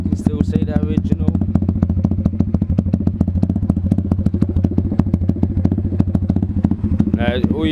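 Stomp Z40 140cc pit bike cold-starting and idling, a loud close single-cylinder engine with rapid steady thumping exhaust pulses and some clatter throughout.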